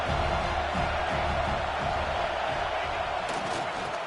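A football stadium crowd roars steadily, a dense, loud wall of cheering and noise that holds throughout with no break, cheering on the home defense.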